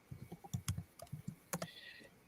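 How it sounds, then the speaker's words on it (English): Keystrokes on a computer keyboard as someone types a message, a quick irregular run of close clicks followed by a brief pause and a few more taps. "I'm typing a message."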